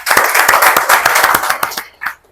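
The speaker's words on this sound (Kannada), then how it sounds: "ಒಂದು ದೊಡ್ಡ ಜೋರಾದ ಚಪ್ಪಾಳೆ ಬರಲಿ" A crowd of farmers at a Mahindra 475 DI tractor event in Karnataka breaks into loud, dense applause close by, rapid overlapping claps that fade out after about two seconds.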